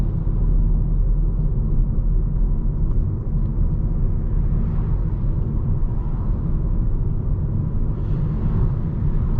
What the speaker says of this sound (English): You get a little bit of tire noise, a little bit of noise from the oncoming traffic, but nothing we can't handle.